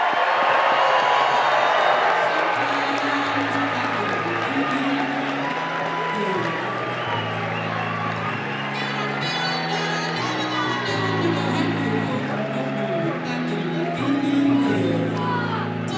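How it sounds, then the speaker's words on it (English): Fan convention crowd cheers and claps for the 2020 Chicago Cubs, a loud sustained roar of applause, whoops and shouting, with music playing underneath throughout. "A nice big round of applause for the 2020 Chicago Cubs."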